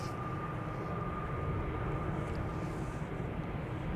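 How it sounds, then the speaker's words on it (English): A TUI Boeing 787 Dreamliner takes off at Amsterdam Schiphol, a dense, even jet roar filling the whole stretch at steady loudness with a faint high whine running through it. "TUI Dreamliner, the second to take off."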